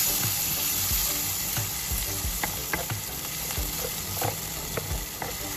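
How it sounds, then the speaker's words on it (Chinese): Minced meat stir-fried with a spoonful of sauce in a hot wok on a small balcony kitchen, a loud close sizzle with rhythmic scraping strokes of the spatula and no talking. "继续拌炒。"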